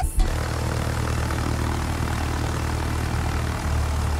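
Steady propeller aircraft drone from a plane in the naval combat video game World of Warships, a continuous low engine hum holding at even loudness throughout with no talking.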